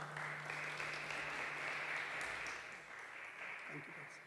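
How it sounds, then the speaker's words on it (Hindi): A church congregation at a fellowship meeting gives the pastor a steady round of applause, a dense, even clatter from a crowd with some talk mixed in, fading slightly toward the end. "ज़ोरदार तालियों में वेलकम करेंगे पादरी साहब को."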